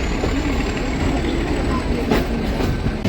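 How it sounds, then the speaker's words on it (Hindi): The Ooty toy train rolling out of a station on its rails, a steady loud rumble and rattle of wheels and carriages from on board, with no gaps. "ट्रेन अरव कांडू रेलवे स्टेशन से चल दिया है।"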